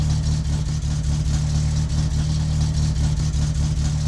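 Satsuma car engine in My Summer Car, a steady, loud mid-pitched drone with a low hum as the car drives along, constant and close with no talk.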